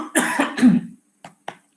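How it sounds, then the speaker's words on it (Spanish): A person coughs once in a harsh, close burst, followed by two short, quieter coughs after a brief pause. "Voy a toser 2 o 3 veces más"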